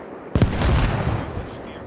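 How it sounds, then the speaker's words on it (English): A sudden blast bursts out, then a second crackling explosion follows on a burnt-out tank along a road in Arma Reforger's Helmand Province setting, loud and close, rumbling away over the next second. "Explosions on the tank."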